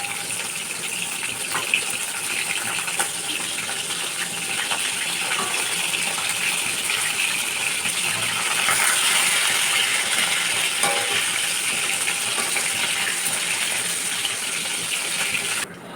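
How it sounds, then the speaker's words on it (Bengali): Fish frying in a wok for a fish curry in a home kitchen, giving a steady, broad hiss and sizzle that runs evenly and fairly close throughout, with no talking. "আর এদিকে এই যে মাছ ভাজা বসিয়েছি"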